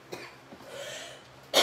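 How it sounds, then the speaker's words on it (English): A single sharp cough bursts out at the end, loud and close, after a stretch of quiet room sound with faint breathy noises, in a home being decorated for fall. "I'm not coughing on purpose"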